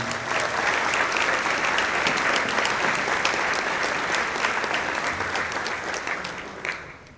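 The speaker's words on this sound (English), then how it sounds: "We want to give you a big round of applause" Sustained applause from a crowd at a high school football banquet, a dense, steady wash of many hands clapping that holds loud for several seconds and tapers slightly at the end.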